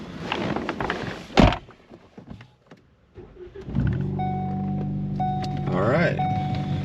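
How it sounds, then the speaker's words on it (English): A Ford Focus ST door thunks, then after a pause the engine cranks and catches after a jump start from a portable jump box, settling into a steady idle with a dashboard chime beeping; brief voices earlier. "Go ahead and start the car."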